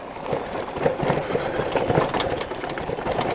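An updated Mini Goat V2 electric vehicle climbs an extremely steep, bumpy hill, its motor giving a continuous rough buzzing whir with rattles and knocks throughout.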